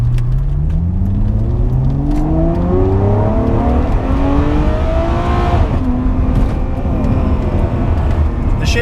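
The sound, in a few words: Ferrari 599 GTO accelerating and shifting gears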